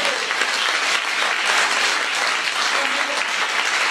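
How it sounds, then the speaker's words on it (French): A dense wash of crowd applause fills a church conference hall, loud and continuous throughout with no break, as a congregation claps together in praise. "Come on, give the Lord a mighty hand."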